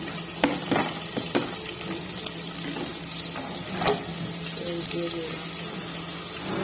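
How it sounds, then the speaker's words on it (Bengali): Oil heating in a pan on a home stove, with curry leaves just added, gives a steady low sizzle with scattered crackles and clatters of stirring, heard up close, with a faint voice at times. "তো এখানে আমি তেল দিয়ে দিলাম আমার রান্না করার জন্য"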